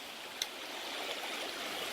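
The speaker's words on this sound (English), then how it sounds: "It's a nice little river, nice little creek." A small forest creek flowing steadily nearby, a soft continuous rush and trickle of water with one brief click near the start and no talking.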